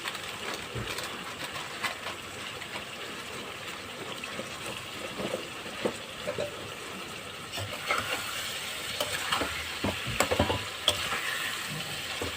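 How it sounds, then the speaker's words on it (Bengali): Coriander, cumin and chilli spice masala sautéing in a pan with oil, a steady close sizzle with scraping stir strokes and occasional sharper clinks throughout, no talking. "ধনে জিরে মশলাটা দিয়ে ভালো করে কষে নেব"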